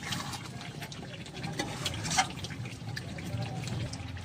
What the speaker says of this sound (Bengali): তো আমি এখানে অল্প করে গরম জল অ্যাড করলাম।